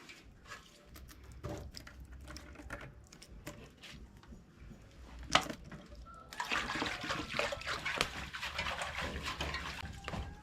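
Water splashes and runs as a pot is washed outdoors in an African village, faint and close, with sloshing that grows busier toward the end.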